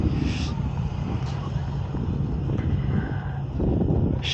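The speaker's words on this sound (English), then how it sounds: "there's a Ryanair 737-800 NG" A Ryanair Boeing 737-800 NG with new-type wingtips rumbles steadily at Manchester Airport's runway visitor park, a broad continuous low roar heard from a distance and blended with wind buffeting the microphone.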